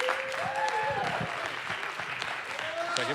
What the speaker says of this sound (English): I need a very big round of applause for these guys